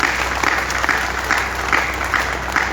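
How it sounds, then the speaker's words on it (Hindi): Audience at an outdoor poetry gathering on a Ramlila ground clapping, a dense, loud, steady applause with rhythmic pulses of clapping throughout. "बस मुझे आपकी तालियों से पता चल जाएगा कि राम भक्त बैठे हैं"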